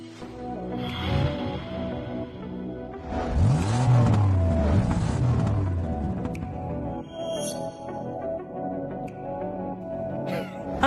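Racing cars and a taxi revving and roaring at a race, engines swelling loudly in the middle with a pitch-sweeping rev, then a steadier motor drone under a music-like background.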